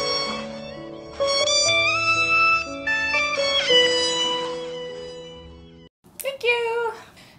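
Kittens meow repeatedly over music-like tonal layers, a few high mewing calls near the end after a brief gap, fairly clear and close.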